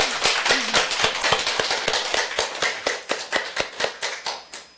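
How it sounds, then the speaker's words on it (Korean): Applause from a Korean church congregation during a Sunday service, heard as a steady round of many hands clapping in unison in a rhythmic beat that grows slightly more spaced toward the end. "영광의 박수 올려드리겠습니다."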